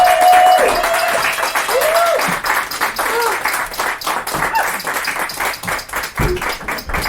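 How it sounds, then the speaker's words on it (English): An audience claps throughout, a dense, fairly close patter of many hands that thins slightly as it goes on, with a voice briefly audible at the start. "I'll do it before you stop clapping."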